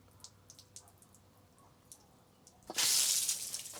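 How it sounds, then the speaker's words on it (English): Water from a hose runs into an engine block: faint scattered drips and trickles at first, then a sudden loud, sustained rush of water close by. "I can hear the block filling up with water."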